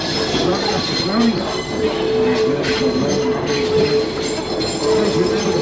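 A rail motor train on the Gulf of Carpentaria line rolls along with a constant loud rumble and high wheel squeals rising and fading, close by, with faint voices mixed in.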